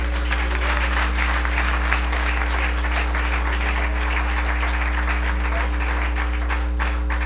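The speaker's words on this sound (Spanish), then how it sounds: "Den un aplauso fuerte a Cristo." Congregation clapping in a church service, sustained steady applause over a constant low hum and tonal drone, evenly loud throughout.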